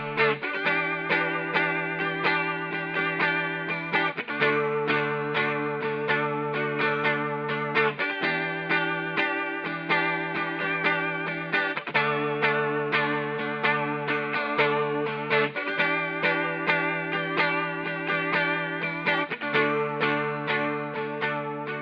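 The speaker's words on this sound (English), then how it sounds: "All you need is a chorus, a little bit of reverb, and you got it." An electric guitar set up for a signature tone plays a repeating chord progression, shimmering with chorus and a touch of reverb, steady and clear with no talking.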